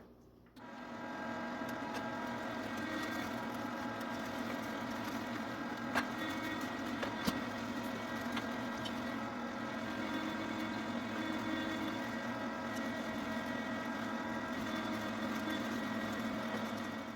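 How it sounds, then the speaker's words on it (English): A dual meat grinder works through venison mixed with fat, giving off a steady, continuous mechanical whir that starts abruptly and holds an even drone throughout, with no talking. "we're going to go ahead and continue to finish grinding the rest of this"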